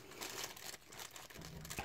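A small plastic mail packet that held a lighter crinkles and rustles in irregular bursts, close and fairly quiet, with no talk.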